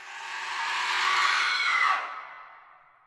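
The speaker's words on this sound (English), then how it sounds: "Mary slowly turned her head and screamed." In a horror story narration, a woman lets out a single drawn-out scream that swells, holds for about a second, and then trails away into silence.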